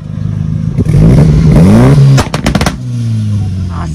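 Nissan Frontier turbo pickup launching, its engine climbing in a loud rising rev, then popping and crackling as it drops off and settles to a lower drone, close by.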